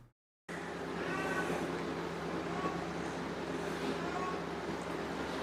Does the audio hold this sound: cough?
no